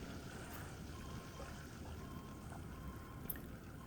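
In the war game Pacific: AE, a continuous rush of churning water over a deep, steady rumble, with a few faint metallic creaks, as a torpedoed cargo ship sinks.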